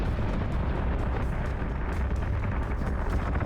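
Warship batteries firing in the space combat game Battlestar Galactica: Deadlock: a dense, continuous rumbling barrage of heavy booms, loud and steady throughout, with no pause between blasts.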